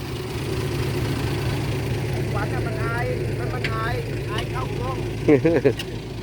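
A tractor engine hums steadily at a mid pitch while it pulls a vehicle. The continuous drone runs under people talking, and a few louder bursts come near the end.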